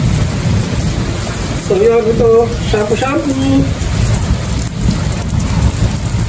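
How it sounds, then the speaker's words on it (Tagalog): Steady rain pours down outdoors while someone bathes in it, a dense, continuous hiss of falling water with a person talking close over it. "Habang naliligo ako sa ulan."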